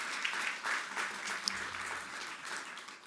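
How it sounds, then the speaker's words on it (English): A graduation audience applauds in a large hall, a steady, fairly faint wash of clapping that holds for a few seconds without breaks. "Give yourselves a round of applause."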